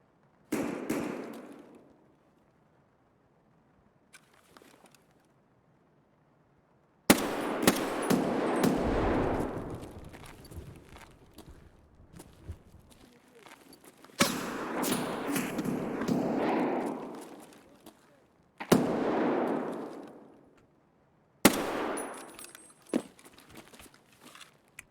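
Gunfire in the video game Escape from Tarkov comes in loud, sharp bursts of rapid shots and single thuds, separated by quiet gaps over about twenty-five seconds, with no voices.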